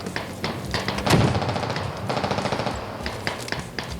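Rapid automatic gunfire in repeated bursts with sharp single shots from the video game Squad, dense and close, no talking.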